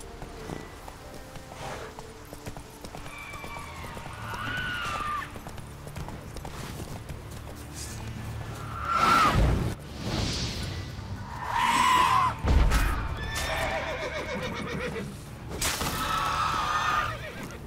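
Roach the horse in The Witcher 3 trots with rhythmic hoof clip-clops and snorts, letting out a few neighs and whinnies along the way, the hoofbeats steady under ambient game sound with brief louder surges.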